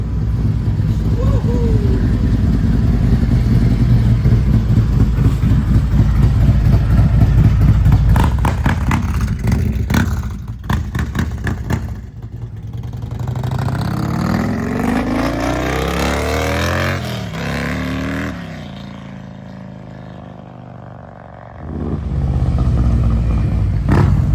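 A 2024 Harley-Davidson CVO Road Glide with a Stage 2 setup, Thundermax and CR565 cam rumbles loudly at idle, then revs and pulls away, its engine note rising through the gears and fading into the distance.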